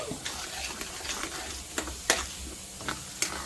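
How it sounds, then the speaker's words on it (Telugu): Paneer mutter masala curry being stirred in a pan, with a soft steady sizzle and scattered light scraping clicks of a spoon against the pan, close and fairly quiet. "కూరకి సరిపడా వేసేసుకొని చక్కగా కలుపుకుందామండి"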